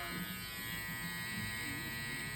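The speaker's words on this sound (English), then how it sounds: "So we're using a trimmer to do clipper over comb." An FX1 trimmer buzzes steadily through hair in a clipper-over-comb cut, a close, continuous electric hum with no pauses and no talking.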